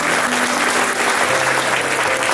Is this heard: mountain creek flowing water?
no